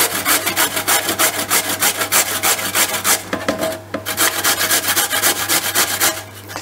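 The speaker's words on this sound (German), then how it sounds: "die Kartoffeln mit der Reibe zu reiben" Peeled potatoes rubbed by hand over a kitchen grater, a steady rapid scraping rhythm of close, loud rasping strokes with a brief pause midway, and no talking.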